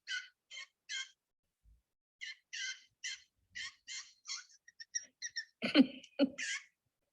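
A blue jay calls in a short series of harsh, evenly spaced notes, then a burst of louder mixed squawks near the end, close and clear against silence.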